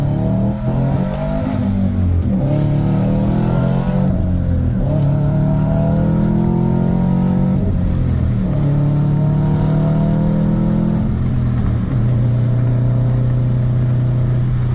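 A 2004 Subaru WRX STI with an AWD 6-speed manual, rated at 300 hp, pulls hard from inside the cabin, its engine note climbing loudly through several gears with brief dips at each shift.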